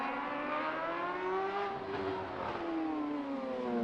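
Michael Rutter's racing motorcycle at the Macau Grand Prix warm-up, its engine held in second gear with a steady high-pitched drone that dips and rises slightly, heard continuously from a distance.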